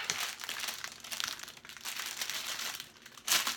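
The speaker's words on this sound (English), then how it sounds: "this paper makes lots of noises." Paper crinkling while unboxing a diamond painting kit, close and continuous rustling and crumpling with a sharper crackle near the end, no one talking.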